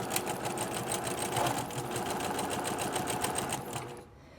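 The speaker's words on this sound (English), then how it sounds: "I'm just going to press the foot controller and sew forward" A home sewing machine stitches forward through fabric in a fast, steady mechanical whir that runs for about four seconds, then stops abruptly.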